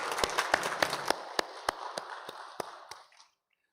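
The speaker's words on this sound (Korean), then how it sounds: "하나님께 감사와 영광의 박수 같이 드리겠습니다." A church congregation claps together during a Sunday morning worship service, a dense burst of applause that thins into a few scattered claps before fading to silence.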